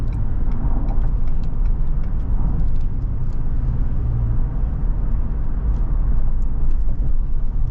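A 2019 Ford Expedition Limited 4x4 accelerates onto a freeway, heard from inside as a steady low engine and road rumble with faint clicks above it, constant and fairly loud, no talking.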